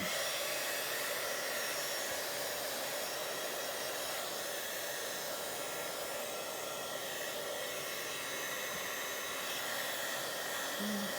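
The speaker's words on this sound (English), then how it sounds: "let's dry that real quick" A hair dryer blows steadily to dry decorated paper envelopes, a continuous broad airy roar with a high whine, close and fairly loud, holding unchanged for the full length with no other sounds.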